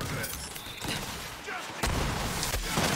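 Two enemy turrets fire bursts of gunfire in the video game Borderlands 3, with sharp, loud repeated shots and booms layered over game noise and a voice talking.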